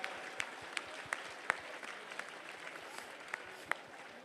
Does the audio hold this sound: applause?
yes